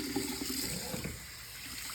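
Running water pours steadily from a tap or sprayer while a Persian cat is washed, a fairly soft, continuous wash of water with small splashy variations and no talking.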